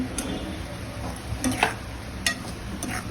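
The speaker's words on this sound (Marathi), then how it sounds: "आता मच्छी टाकून पण आपण मस्त मिक्स करून घेऊ" Pomfret fish being stirred into a simmering tomato masala curry in a pan gives a soft sizzle with a few scraping utensil clicks and light knocks against the pan.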